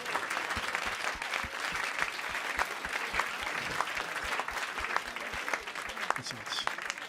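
Audience at a Leeuwarden event applauding a guest: sustained, dense clapping runs throughout, fairly distant and even, with a few sharper individual claps standing out and faint voices underneath.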